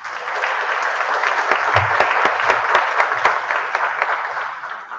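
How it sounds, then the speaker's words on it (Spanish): Dense, even applause from an audience at a book launch in a university setting fills the room at close range, holding steady throughout before tapering off slightly. "un aplauso por estar aquí acompañándonos a Luis Felipe Jiménez."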